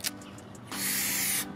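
A can of Flex Seal sprays in one steady, close hiss lasting under a second, preceded by a few faint ticks and taps.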